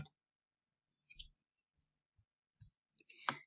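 A computer mouse clicks on a Continue button in the Moodle learning platform: a few sharp, isolated clicks separated by silence, close and quiet.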